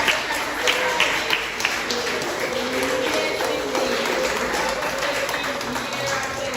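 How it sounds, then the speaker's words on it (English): Audience applause at the Jamaica Cancer Society St. Elizabeth branch annual general meeting, a dense, continuous clapping from a crowd in a hall with voices mixed faintly underneath, steady throughout. "can we just give a big round of applause for the St. Elizabeth branch of the Cancer Society?"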